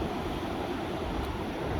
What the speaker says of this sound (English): listening to this rushing water in the background, wind